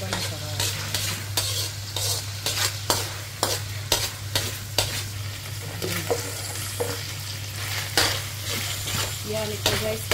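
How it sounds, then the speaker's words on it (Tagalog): Pork steak sautéing in a pan, a steady sizzle broken by repeated scraping stir strokes through the whole stretch, with a constant low electrical hum underneath and no talk. "Ayan, nagigisa na ako."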